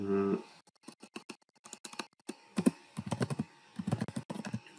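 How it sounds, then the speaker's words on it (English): Code being typed on a computer keyboard, bursts of quick close key clicks with brief gaps, fairly soft and without talk over them. "So just I'm writing the code mat select and form"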